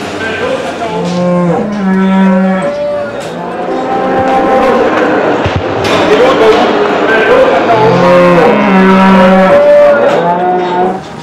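Cattle at the Saint-Christophe livestock market low loudly and close by, with long repeated moos overlapping one another throughout.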